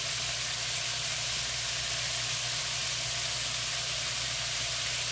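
Frozen chicken pieces and broccoli with onion sizzle steadily in a hot skillet, a continuous close hiss of frying with a low crackling bed and no talking.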